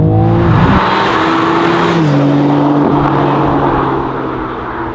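BMW M3 Touring G81 from 2023, fitted with a carbon exterior kit, driving hard with a loud engine note that climbs and shifts through gears, then fades slightly as it pulls away.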